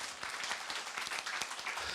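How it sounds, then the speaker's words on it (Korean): A classroom audience at a lecture on winning debates claps briefly, a light, fairly faint patter of hands, with a hint of voice underneath. "예, 박수 쳐주세요"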